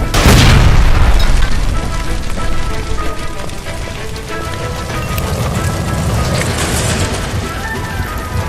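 A gas line explosion bursts in LA Noire with a heavy boom up front, then a sustained crackling roar of fire and debris that continues at full loudness.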